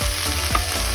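Cabbage stirred while frying in a pan, a loud close sizzle with scraping stir strokes over one brief second, no voices.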